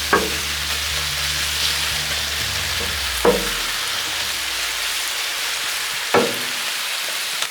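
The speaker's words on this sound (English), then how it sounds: "Come here and just kind of chop this up just a little bit." Burger meat sizzles steadily on a Blackstone griddle, broken by three sharp, evenly spaced spatula chops against the flat steel.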